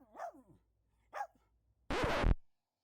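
Dorie, a pet dog at a UK allotment, gives two short close barks followed by a louder, harsher, longer bark.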